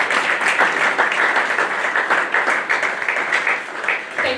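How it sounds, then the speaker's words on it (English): An audience at an alumni talk event breaks into sustained, even applause, a continuous wash of clapping from many hands with no speech over it. "And I think that deserves a round of applause."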